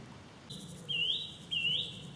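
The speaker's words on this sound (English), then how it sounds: "Little bird song though. Occasionally the odd chiff chaff, and that's about it." Faint birdsong in a dry summer woodland along a stream valley, with two short high whistled phrases over soft background hiss.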